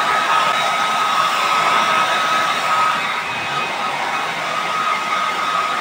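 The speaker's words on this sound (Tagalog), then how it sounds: "Mabilis lang ang blower nito." A loud electric blower used in silk screen making roars steadily with a high whining hum, running continuously without any pauses or voices.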